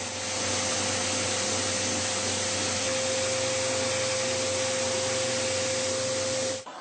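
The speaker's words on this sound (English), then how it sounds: "This is my homemade 2x72 grinder" A homemade 2x72 belt grinder grinds the bevel of a hardened steel knife blade guided by a clamped wood block, a loud steady abrasive roar with a constant motor whine that holds throughout, then cuts off.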